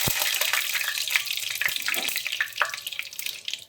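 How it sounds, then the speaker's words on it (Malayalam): Curry leaves dropped into hot oil for Kerala-style karimeen pollichathu fry with a steady, bright sizzle and crackle throughout, with a few small pops and spatters close up. "എണ്ണ നന്നായിട്ട് ചൂടായി കഴിഞ്ഞാൽ നമുക്ക് കുറച്ച് കറിവേപ്പില ഇട്ട് കൊടുക്കാം."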